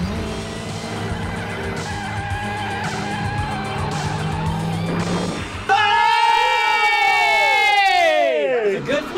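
A movie car chase with cars and a motorcycle, heard as loud engine roar and rumbling followed by a long, shrill tyre skid that bends and trails off, with music or crowd-like noise mixed underneath.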